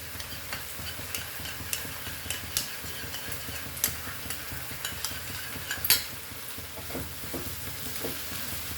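Slurry stirred into butter garlic prawns in a pan over a high flame, soft sizzling under repeated light scraping and tapping of a utensil against the pan.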